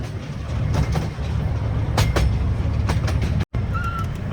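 A small park railway train in the UK runs along close by, a steady rumbling roll with repeated rhythmic clicks of wheels over rail joints and a brief squeal near the end.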